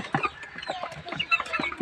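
Several chickens clucking close by, short overlapping calls in an irregular, busy rhythm with no one talking.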